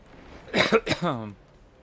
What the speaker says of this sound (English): It's a phlegmy cough, not a dry cough.